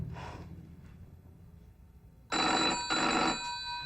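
A telephone bell rings loud and close in two long, bright bursts partway through, after a quiet stretch of low room rumble, with no talking over it.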